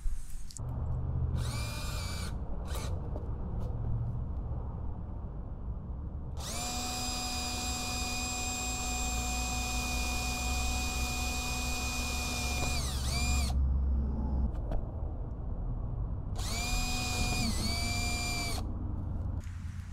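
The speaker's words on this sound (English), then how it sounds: "So we're just gonna drill it out to that spot right there" A power drill bores out a plastic part on a bent Parajet Maverick paramotor frame. It gives a loud, steady whine in a few short bursts, then one long run of about six seconds that winds down, and then another burst.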